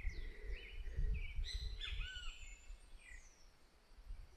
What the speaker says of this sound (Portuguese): os bem-te-vi estão gritando aí